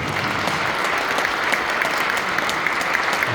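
An audience claps warmly for three guests at a public testimony gathering, a dense, steady wash of applause filling the whole stretch without a break.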